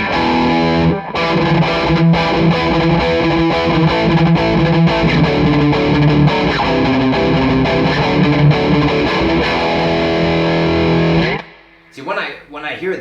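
A Gibson Les Paul electric guitar plays through heavy distortion with some chorus-like effect, loud sustained chords and notes ringing continuously for about eleven seconds before dropping away, after which a voice begins speaking.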